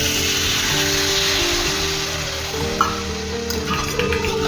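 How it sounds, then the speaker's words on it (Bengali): A small splash of water added to potato slices cooking in a pan, a steady loud sizzle and hiss with a few light spoon clinks, no voices. "এবার আমি ঢাকাটা খুলে এর মধ্যে দিয়ে দেব সামান্য পরিমাণ জল।"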